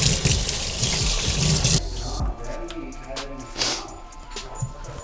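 A sink tap runs hard, a dense, loud splash of water during a sneaker-cleaning session, which then drops to a quieter trickle with scattered splashes and clatter.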